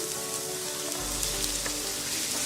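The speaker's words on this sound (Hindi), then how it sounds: "अब इसमें मैं चिकन डालूंगी।" Chicken pieces sizzle in a pan with softened onions while cooking for a lasagna, giving a steady, close, crackling fry with no talking.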